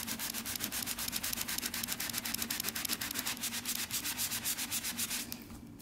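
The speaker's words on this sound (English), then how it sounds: "But do you know what came to the rescue? Good old magic eraser, like the sponge." A magic eraser sponge is scrubbed over tile to lift grout haze, making a fast, rhythmic rubbing of quick back-and-forth strokes, moderately quiet and close, with no voices.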